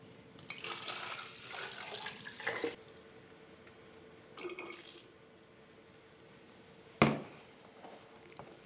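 Tap water runs into a sink while semi-hydro Alocasia micholitziana plants are watered, a steady faint splashing flow that surges in bursts, with a sharper splash near the end.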